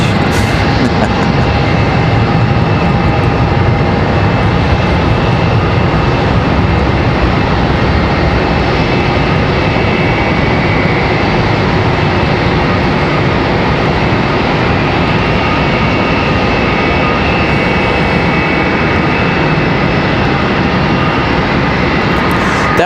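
American Airlines flight 1419, arriving from Fort Lauderdale, rolls past at Charlotte airport with a sustained, loud jet engine roar holding steady throughout, a faint voice briefly underneath.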